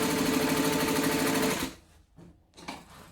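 A sewing machine stitching up the side of a bag, running in a fast, steady whirring chatter up close for over a second, then stopping, followed by faint handling noises.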